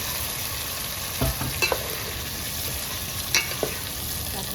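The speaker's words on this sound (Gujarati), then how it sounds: "ઝીંગા નખાઈ ગયા છીએ હવે આપણે હલાવવાનું છે" Prawns sizzle steadily in a pan of cooked masala, with a few sharp scrapes and clanks as they are stirred, close and alone without talk.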